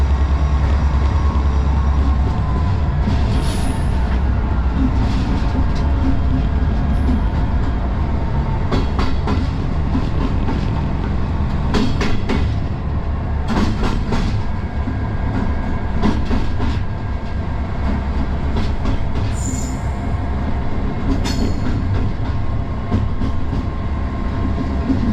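Class 59 freight train rolling steadily along the rails between Acton and Herne Hill, with a constant low rumble and rhythmic clicks and clacks from the wheels, heard from inside the cab.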